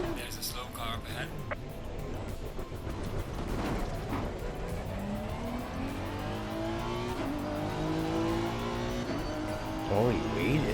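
A race car engine from the Assetto Corsa Competizione racing game on the Suzuka circuit drones continuously, revving and shifting through gears, with a steady loud roar and rising pitch sweeps, while a person talks over it.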